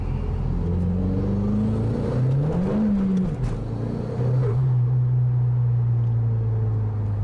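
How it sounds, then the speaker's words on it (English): A Mazdaspeed3 accelerates hard, its engine rising through second gear, then dropping briefly at the 2-3 shift before pulling again with a steady, loud drone; close, continuous engine and road rumble with no talk. "Shane's gonna give it a good hard 2-3 shift"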